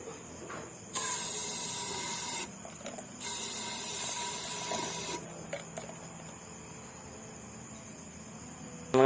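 Aerosol spray hissing onto the front shock of a Suzuki Raider J115 Fi motorcycle: long, steady bursts of broadband hiss with short pauses between them, close by and with no talk.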